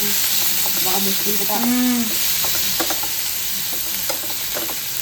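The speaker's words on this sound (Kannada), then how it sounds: "ಸೊ ಇಲ್ಲಿ ಉಳ್ಳಾಗಡ್ಡಿ ಮತ್ತು ಟಮಾಟ ಎರಡು ಜೊತೆಗೆ ಫ್ರೈ ಮಾಡ್ಲತ್ತಾರ" Onion and tomato frying together in a pan, a steady close sizzle with occasional stirring scrapes, while a voice talks briefly over it.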